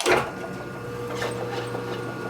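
A few rasping strokes of a hand file scrape across a Harley-Davidson Panhead front brake pivot stud, close up, over a faint steady mechanical hum.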